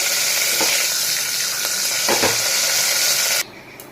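Mustard seeds and chana dal frying in hot oil in a pan: a continuous loud sizzle broken by scattered sharp pops and crackles, ending abruptly near the close.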